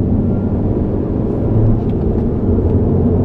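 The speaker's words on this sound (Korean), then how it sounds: "도로에서 노면 소음이 좀 들어오죠." Steady low road rumble inside a manual Honda Civic 1.5T with lowered suspension, 18-inch wheels and low-profile Yokohama Advan AD08 tires, loud and continuous with no talking.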